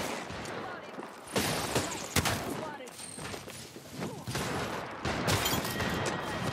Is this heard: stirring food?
no